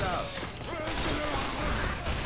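Gunfire from the Left 4 Dead 2 video game, Dead Center campaign, with bursts of rapid shots running continuously at steady loudness under speech-like voices.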